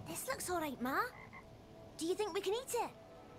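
A frog croaks in Diablo IV, giving two bursts of rippling, guttural calls, each a rapid run of croaks, loud and close with a brief pause between.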